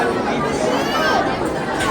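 A dense crowd chatters continuously in a temple queue at Akkalkot, with many overlapping voices close around and no single voice standing out.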